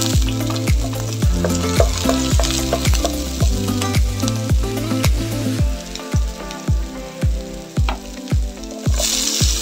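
Onions fry in a pan for a home-cooked misua with fried fish, a loud steady sizzle with crackling pops and rhythmic stirring scrapes throughout, with no talking.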